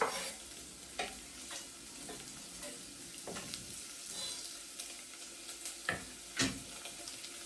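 Onions sizzle steadily in oil in a frying pan while a spoon stirs and taps against the pan at irregular moments, close up and clear with no voices.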